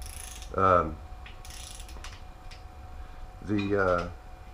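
Ratchet turning bed plate bolts on a 2006 Jeep Grand Cherokee 3.7L engine during a rebuild, two short bursts of close clicking ratchet strokes separated by quieter pauses.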